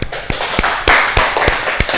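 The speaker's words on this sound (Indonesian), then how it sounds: "Tepuk tangan." A class of pupils claps for a group in an Islamic religious education lesson, a quick burst of sharp, irregular hand claps close by that thins out over about two seconds, with no talking.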